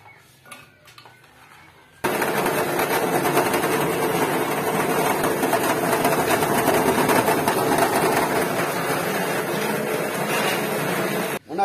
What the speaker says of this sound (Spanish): Una vez terminado de moler el coco